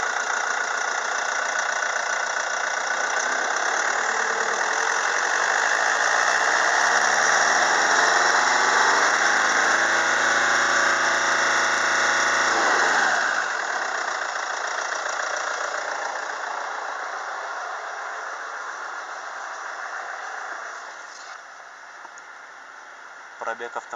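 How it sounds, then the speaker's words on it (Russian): A 2006 Hyundai Santa Fe 2.2-litre D4EB diesel engine idles with a steady, close mechanical hum and clatter, fading quieter toward the end. "Работа двигателя на холостых оборотах."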